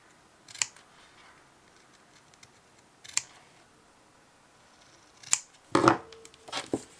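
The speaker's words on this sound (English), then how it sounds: "These leather scissors are amazing." Leather scissors snipping through leather for sandal making, a few sharp isolated crunching cuts spaced seconds apart, close and clear, with a quick double cut near the end in a quiet room.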